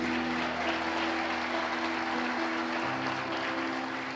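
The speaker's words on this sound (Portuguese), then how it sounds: "Se é para aplaudir, aplauda como crente aí" Applause from a church congregation during an evangelical sermon, a steady dense wash of clapping lasting several seconds at even loudness, with a low sustained hum underneath.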